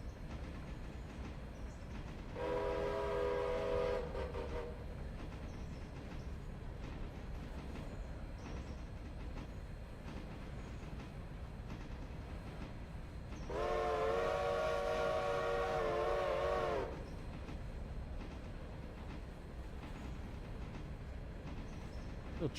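A train rolls along the rails with a steady rumble and rhythmic wheel clatter throughout, broken by two sustained horn or whistle blasts, one early and a longer one later.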